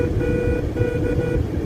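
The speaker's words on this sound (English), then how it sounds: "More honking." A vehicle horn honks in long, sustained blasts along a convoy route in California, loud and near, over a steady road rumble with a slightly odd, off tone.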